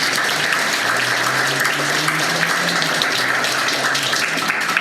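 Crowd at an under-18s end-of-season awards night applauding, a continuous dense patter of clapping at steady loudness throughout.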